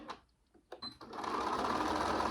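A sewing machine stitches the corner of a small drawstring bag, starting with a few short taps and back stitches before running into a steady, close mechanical whir.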